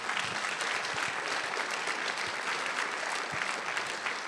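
Audience applause fills the room, a dense steady clatter of many hands clapping at close range without pause.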